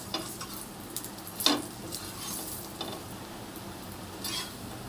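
Fasting chilla of bhagar and sabudana roasting in a pan, a soft low sizzle with a few sharp utensil clinks and scrapes against the pan.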